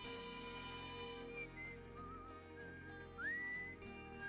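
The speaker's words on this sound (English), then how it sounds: "There's someone whistling" A character whistles a wandering tune in the video game Outer Wilds. The short phrases slide up and down, ending in a rising swoop, with gentle background music underneath.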